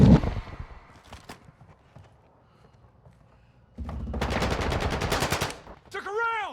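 Gunfire in the Call of Duty Vanguard video game: a short early shot, then after a quiet stretch a dense burst of rapid automatic fire lasting nearly two seconds, followed by a brief tonal sweep.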